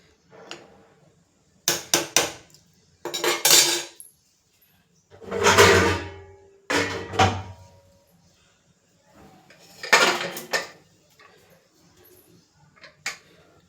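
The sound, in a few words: pressure cooker lid being closed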